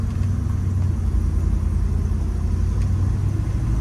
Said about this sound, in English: We'll take it for a little cruise around down the road here and let you guys see how it drives.